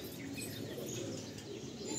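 Pigeons in a large racing-style breeding loft in Rajarhat, Kolkata, with steady low cooing and soft chirps from many birds at once, a dense continuous murmur filling the space.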